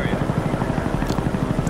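A chopper gunner helicopter in Call of Duty Black Ops thumps with rapid, rhythmic rotor beats, loud and close for a brief moment.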